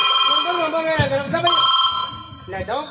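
A telephone ringtone chimes repeatedly with a bright, steady electronic tone, close and clear, while people talk and call out over it.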